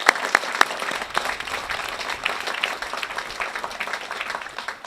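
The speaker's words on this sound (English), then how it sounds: "I hope you would join me in giving them yet another round of applause for the friends and family of the graduating class" A law school commencement crowd gives a sustained round of applause for graduates' friends and family, a steady wash of many hands clapping at moderate distance.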